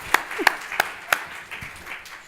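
A handful of scattered, sharp hand claps from a small audience at a beverage pitch competition finals, irregular and sparse, fading into low room murmur.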